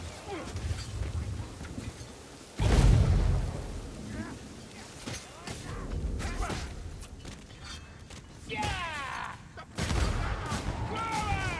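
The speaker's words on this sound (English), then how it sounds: "I know that sound. It's a rat gun." A Skaven ratling gun fires in Warhammer Vermintide in a sudden loud burst of rapid gunfire, followed by further shots, whooshes and mechanical clatter amid battle noise, with players' voices shouting throughout.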